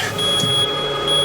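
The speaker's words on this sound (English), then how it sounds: "It literally sounds like a smoke detector." A van's safety warning beeper sounds loud and steady, shrill and continuous, like an alarm close by with no talking.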